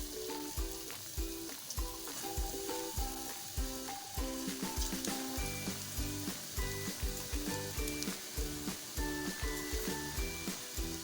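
Pakoras fry in a pot of hot oil, giving a steady, dense sizzle with rhythmic bubbling and crackling throughout, fairly close, with no talking.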